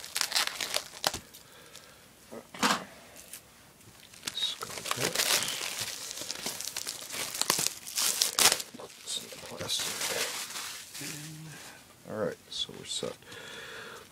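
Plastic packaging around a spiral-bound calendar crinkles and rustles as it is cut open with scissors, close and intermittent, with quiet speech mixed in.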